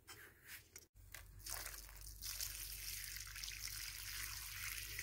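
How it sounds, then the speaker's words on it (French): Water pours steadily from a watering can onto cabbage plants in a winter vegetable garden, a continuous close trickle and splash that runs alone without a break. "Un arrosoir à chaque pied"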